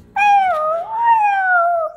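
A child imitates a cat, drawing out one long wavering meow with a rising then slowly falling pitch, loud and close, lasting nearly two seconds with no other sound around it.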